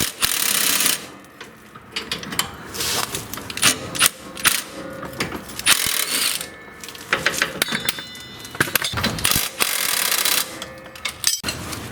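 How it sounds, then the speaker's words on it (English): A 15mm wrench and 17mm socket work bolts loose on a John Deere X-Series riding mower, giving close, irregular metallic ratcheting clicks and clanks in uneven bursts with short pauses between. "to remove these, I gotta lock the back of it with a 15mm wrench and use a 17mm socket here"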